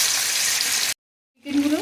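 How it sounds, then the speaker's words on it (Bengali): Turmeric- and salt-rubbed chicken frying in oil for chicken biryani: a dense, steady sizzle for nearly a second, then a sudden cut to silence before fainter kitchen sounds return. "আমি এবার এখানটায় চিকেনটাকে ভেজে নেব"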